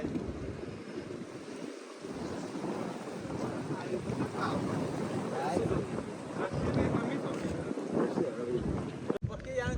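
Wind buffets the microphone in low, uneven gusts, with a constant rushing noise throughout and a sharp knock near the end.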